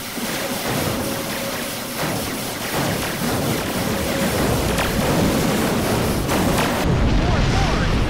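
Borg ships opening fire in the Star Trek Online video game: a dense, continuous roar of space-combat weapon blasts and rumbling impacts, loud and sustained, with a voice talking over it.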